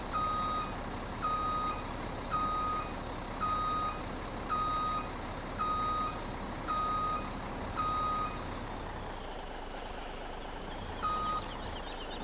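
A truck in Farming Simulator 17 backs up with its reversing alarm beeping at an even, regular pace, each tone clear over a low engine hum, the beeps continuing steadily before a brief air-brake hiss.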